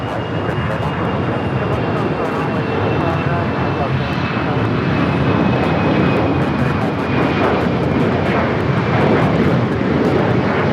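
An airliner landing on runway 25 right at Los Angeles International Airport roars with broad, steady engine noise and a faint descending whine, continuous and fairly close for the whole stretch.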